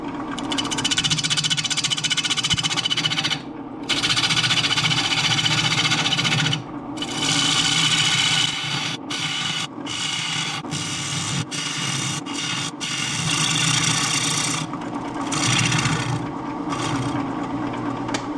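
A wood lathe turns a red cedar piece at 600 RPM, giving a steady rasping, scraping drone broken by brief pauses as the cutting stops and starts.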